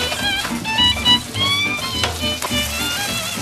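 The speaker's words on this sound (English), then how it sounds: "You can tell the vegetables are cooking because they sizzle." Vegetables sizzling and frying in a hot pan while being cooked for a stuffing, with crackling pops and hissing that swell and fade as they are stirred. Close and fairly loud, with no talk.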